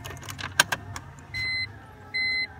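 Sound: turning the ignition of a BMW E46 M3

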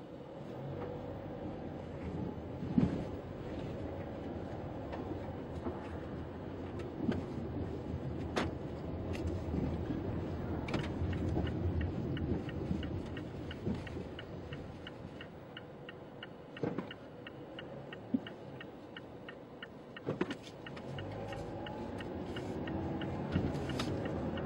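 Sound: Mazda 3 car driving, heard from inside

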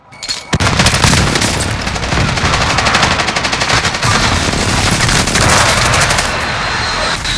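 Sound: Stoner machine gun firing in a video game

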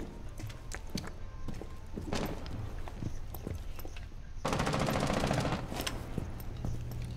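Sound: pistol gunfire in the video game Rainbow Six Siege

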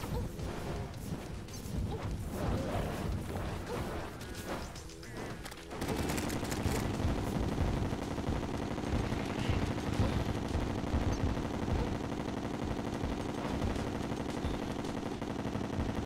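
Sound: rainbow gun firing in Terraria video game

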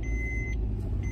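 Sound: car driving off

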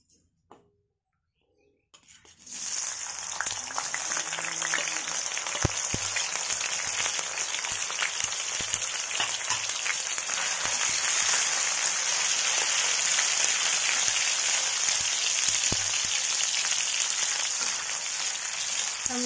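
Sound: paneer frying in oil in a kadhai

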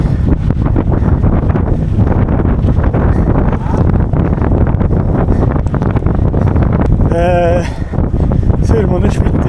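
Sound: strong wind during a bike race climb

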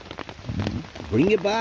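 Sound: rain falling outside

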